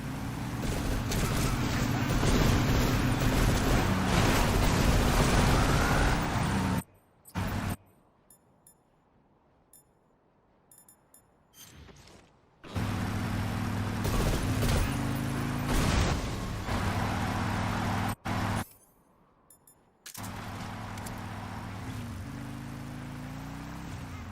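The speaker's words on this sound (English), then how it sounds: "This motorcycle is going too fast to slow down and listen to it for 10 seconds." Motorcycle engine from the video game Metal Gear Solid 3 Delta, a loud continuous revving drone with shifting pitch, cut by a few sudden silent gaps as the ride continues.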